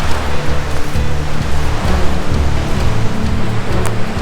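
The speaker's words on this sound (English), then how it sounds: "The river's right there." A river rushing beside a wilderness campsite, a steady broadband roar of flowing water with low rumble underneath, continuous and loud throughout.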